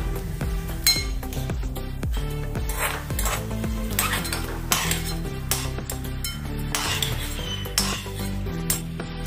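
Fried spices for a stuffed karela masala are scraped from a pan into a mixer jar, with utensils clinking and scraping in a busy, steady run of metallic knocks over a continuous background hum.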